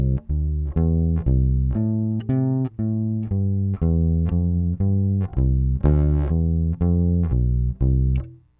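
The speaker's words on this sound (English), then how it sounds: "let me show you what the bass sounds like." Clean direct-input bass guitar playing a bass line, a steady run of plucked notes with a firm, round low end, close and loud with no voices.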